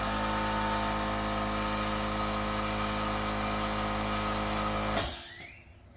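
An ultra quiet air compressor fitted with mufflers runs as a steady hum with a thin high whine, then a sudden loud hiss of air as it shuts off and the sound fades to quiet.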